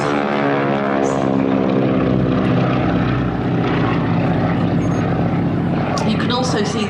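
A propeller aircraft's engine drones steadily and loudly throughout, carrying a wingwalker at the Midlands Air Festival air show, with a commentator talking continuously over the sound.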